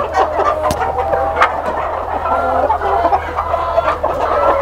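Lohmann parent stock hens on a poultry farm clucking in a close, busy chorus, with brief sharp calls standing out over a steady low hum of farm machinery.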